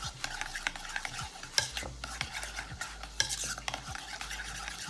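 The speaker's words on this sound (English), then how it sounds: "We're just gonna mix that on up." Spoon stirring a creamy mixture of ranch dressing in a bowl, producing wet, irregular scraping and clinking strokes at close range, fairly quiet, with no talking.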